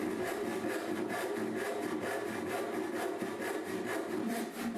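A freshly sharpened hand rip saw cuts through oak in a steady series of rasping strokes, close and clear, with no voices.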